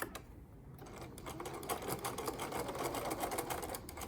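A sewing machine stitching a straight seam on pinned fabric, a fast even rattling whir of the needle running steadily for a few seconds, fairly quiet and close, with no talking.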